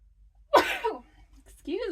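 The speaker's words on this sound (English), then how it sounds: "I got to sneeze." A single abrupt sneeze from a woman crafting at her desk bursts out close and loud after a brief quiet, followed by a short spoken remark.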